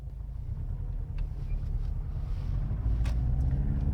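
Car driving on a road at night, a steady low engine and road rumble heard from inside the cabin, continuous and fairly loud with no talking.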